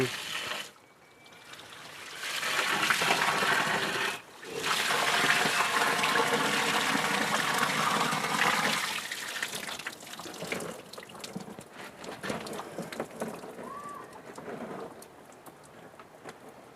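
Water from a ten-year-old air cooler gushes and splashes heavily onto the ground in two long pours, then tapers into lighter trickles and drips.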